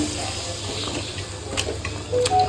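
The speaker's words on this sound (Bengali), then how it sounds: "এবার জলটা দিয়ে দেবো" Water being poured into a curry in a home kitchen, a steady low rushing splash that runs evenly and fairly close throughout, with a few small clinks.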